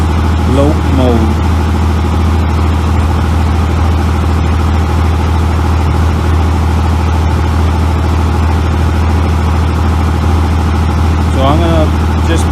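A 24-valve Cummins diesel engine runs close and loud in gear, a steady deep drone with a slightly uneven lope throughout, and a few faint high chirps over it.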